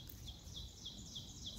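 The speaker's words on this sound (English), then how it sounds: "I hope you can hear the birds." Faint, high chirps repeat at a steady rhythm, a small bird calling over quiet outdoor background noise.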